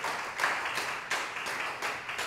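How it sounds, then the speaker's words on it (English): A church congregation at a Sunday service claps their hands in a steady rhythm, with repeated bursts of clapping sounding roughly every half second and no talking. "Come on and clap your hands like you perceive it."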